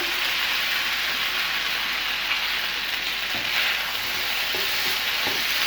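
Prepared chicken for a creamy butter garlic dish hitting a hot pan, giving a steady, loud broadband sizzle that fills the clip, with faint stirring knocks toward the end and no talk.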